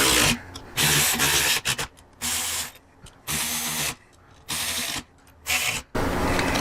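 Bolts being run down by hand or power tool on a Harley-Davidson Softail wheel pulley with fat spoke wheels, heard as repeated loud bursts of buzzing, ratcheting tool noise separated by short pauses, close and without speech.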